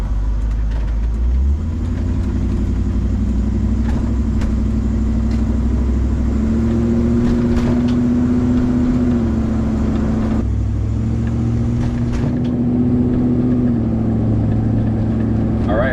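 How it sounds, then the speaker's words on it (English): A 1994 Land Rover Defender 90 NAS engine accelerates: a loud, close drone climbs in pitch, drops at gear changes and climbs again, steady and continuous with no voices over it. "First impressions, it does not accelerate as fast as a brand new Defender 90"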